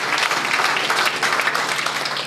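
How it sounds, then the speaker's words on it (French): An audience at a religious gathering claps steadily, loud and close, a dense, sustained patter of many hands with little talk over it. "Est-ce qu'on peut acclamer"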